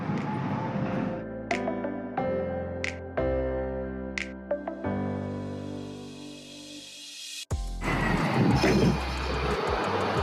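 A tram in Germany rides along with a loud, steady rumble and rising electric motor whine, clattering rail joints, and a sharp jolt near the end before the noise continues.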